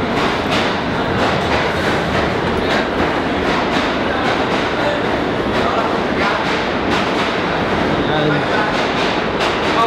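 A subway train rolls past on its rails, a loud continuous rumble with rhythmic clickety-clack wheel beats, heard close by with faint voices mixed in underneath.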